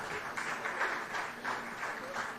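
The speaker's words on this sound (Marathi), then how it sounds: "सगळ्यांनी टाळ्या मारून स्वागत करचे." An audience claps in welcome at the opening of a BJP Goa state-level workshop held at a resort on Divar island, giving steady, moderately loud applause with a gently pulsing rhythm throughout.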